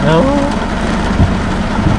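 Steady, loud rain falls at a riverside campsite in Kaeng Khoi, Saraburi, Thailand. The hiss is dense and continuous, with a low rumble underneath.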